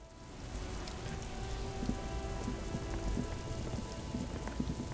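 Steady rain in the video game Disco Elysium, a dense patter of drops on surfaces with faint low rumbles beneath, continuous and without speech.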